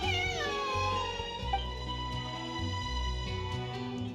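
Cat meowing in Genshin Impact, a drawn-out mewing call heard clearly over a steady sustained game music bed.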